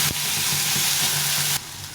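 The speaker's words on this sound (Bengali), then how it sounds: "এখন এই যে বেটে রেখেছিলাম এই মশলাটা দিয়ে দিই।" Ground spice paste hits hot oil in a pan, set with bay leaf, cumin and cardamom for an egg curry, giving a loud, close, continuous sizzle and hiss that drops in level near the end, with no talking.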